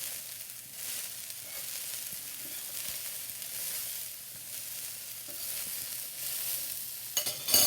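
Sprouted chickpeas frying in a pan as a snack, with a steady soft sizzle and faint stirring scrapes throughout, and a few louder clatters near the end.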